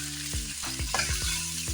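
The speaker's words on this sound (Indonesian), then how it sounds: "Jangan lupa aduk rata ya, kita aduk ya guys" Homemade Cirebon-style chicken porridge (bubur ayam) being stirred in a pot over heat, a spoon scraping in slow repeated strokes against a steady bubbling simmer, close and fairly quiet.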